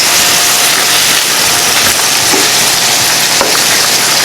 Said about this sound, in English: I am browning a pound of ground beef here on the stove